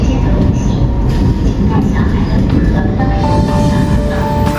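A CRH6F-A suburban train runs near Haikou station, giving a steady, loud rumble of wheels and motors throughout with a faint whine above it and no pauses.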